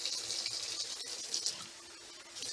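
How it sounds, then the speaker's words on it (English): Water trickles and splashes into a stuffed pepper sauce, a faint, steady pour heard close with light rattling and no voices. "So let me add a little more water."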